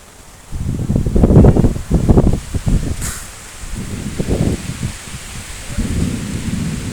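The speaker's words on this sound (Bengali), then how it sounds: "বৃষ্টি আইতেছে এই যে বৃষ্টি আইতেছে দেখা যাইতেছে" Thunderstorm with rain approaching outdoors during Bangladeshi fishing: deep rolling thunder swells and fades in repeated low rumbles over a steady hiss of rain and wind, loud and continuous with no talking.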